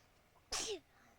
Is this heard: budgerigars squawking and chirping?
no